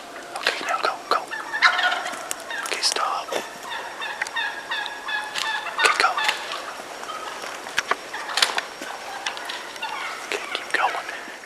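Wild turkey toms gobble repeatedly while fighting in thick brush, with rapid bursts of gobbles and scuffling at moderate distance throughout.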